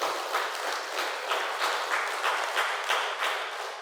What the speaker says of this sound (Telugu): విశ్వ సహకారానికి ఒకసారి హార్ట్ఫుల్ క్లాప్స్ కొట్టాలి